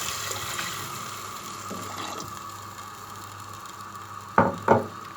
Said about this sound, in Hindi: ये हम पानी डाल रहे हैं।